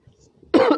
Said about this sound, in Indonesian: Maaf ya, batuk.